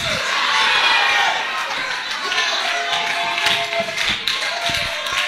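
A church congregation breaks into sustained cheering, clapping and acclaim at a worship service, with dense crowd noise and scattered claps continuing loudly throughout.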